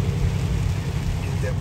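Heavy rain pours down in Pennsylvania, a dense, loud, continuous hiss and rumble throughout.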